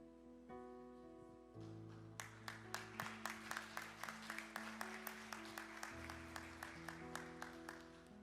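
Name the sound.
weak applause from church congregation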